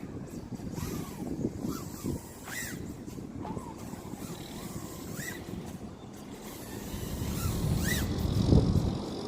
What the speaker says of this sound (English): It's more of a steady wind now.